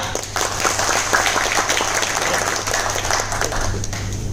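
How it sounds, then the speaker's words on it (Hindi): Sustained applause from an audience at a business seminar, a dense steady wash of many hands clapping that carries on evenly for several seconds with a constant low hum beneath it. "जोरदार तालियां।"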